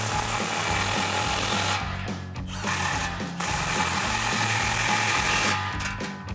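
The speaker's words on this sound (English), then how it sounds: "And then same thing, impact and 16mm socket." A 16mm socket on an impact wrench tightens an exhaust clamp on a Ford F-150 dual exhaust install, giving loud rapid hammering bursts with two short pauses, close up and with no talking.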